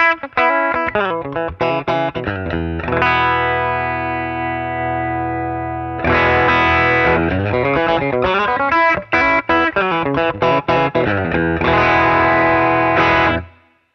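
Fender Acoustasonic Player guitar on its magnetic pickup runs through a DI box, loud strummed and picked chords with a sustained ringing passage in the middle, continuous until a sudden stop.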